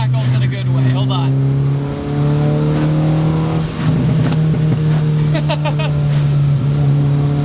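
A modified VW Golf with a 2.0 engine idles and revs loudly up close, its droning exhaust rising and falling, with bursts of sharp crackles and pops and a person talking over it.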